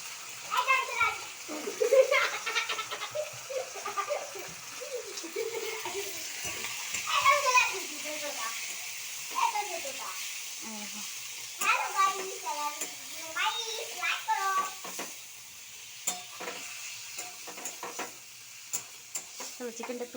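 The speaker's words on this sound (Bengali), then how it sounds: "চলো চিকেনটা একটু ভাজা ভাজা হয়ে যাক" Chicken cooking in a pan with ginger paste, garlic paste and onion, giving a soft sizzle and stirring, while children talk and chatter nearby throughout.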